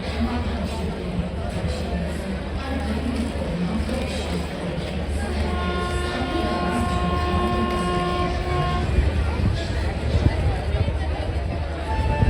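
A crowded railway station platform in the June rush, waiting for the Telangana SF Express from Delhi: a constant dense babble of voices and movement, with a long train horn sounding partway through.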